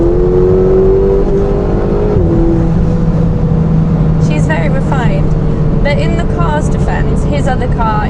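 Ferrari 488 under full throttle heard from inside the cabin: a steady, muted engine drone with a shift partway through, while people talk over it in the second half.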